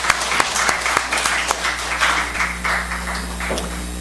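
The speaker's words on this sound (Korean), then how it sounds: "우리 박수로 하나님께 영광 올려드리겠습니다." A church congregation claps during a Korean worship service, giving a run of uneven hand claps with distinct sharp hits over a constant low hum.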